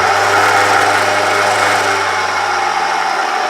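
An electric milling machine grinding feed ingredients into flour, a loud continuous high-pitched motor whir with a steady grinding roar, close and unbroken throughout.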